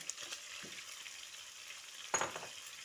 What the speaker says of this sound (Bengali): কাঁচা লঙ্কা টমেটোটা দিয়ে চিকেনের সঙ্গে ভালো করে মিশিয়ে দিচ্ছি